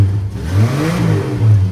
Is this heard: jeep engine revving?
yes